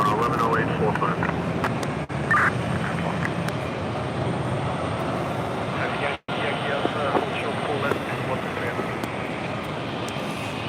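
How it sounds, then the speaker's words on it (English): A JetBlue Airbus A320 airliner on approach at JFK airport sends a steady, broad engine roar that holds for the whole stretch, with voices faintly mixed in. "Got a JetBlue A320 coming at us here."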